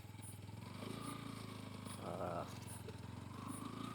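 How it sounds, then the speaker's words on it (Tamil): A motorcycle engine labours uphill on Jarugu Hills near Salem after stalling and restarting, its steady low drone close and continuous, rising briefly in a strained surge midway, with faint voices mixed in. "பைக்கு ஒரு மாதிரி நல்லாவே திணறுது காய்ஸ்"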